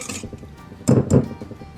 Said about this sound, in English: I'm going to use my whisk and whisk it together